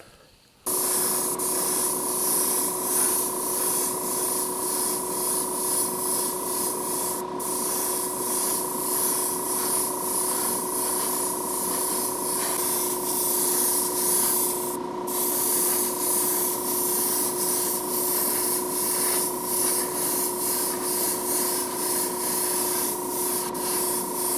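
A spray gun lays 2K clear coat onto a car body, a loud, steady hiss that runs almost unbroken for over twenty seconds with a couple of brief pauses, close to the listener and without any voices.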